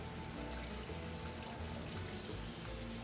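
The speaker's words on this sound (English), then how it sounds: "Rinse them off." Tap water runs continuously over chopped plantain cubes in a kitchen sink, a steady, close splashing rush with no pauses.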